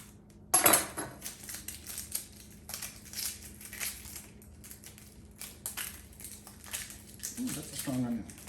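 Knife chopping celery, onions and bell pepper on a cutting board while making Louisiana dirty rice: a sharp first cut, then irregular, fairly quiet knocks and taps spaced across several seconds in a kitchen.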